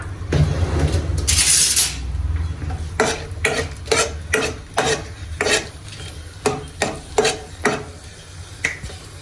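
Green and dry chillies fry in hot oil in a pan, with a brief sizzle and then a steady run of close, rhythmic scraping strokes as a utensil stirs them.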